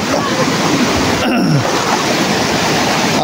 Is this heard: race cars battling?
no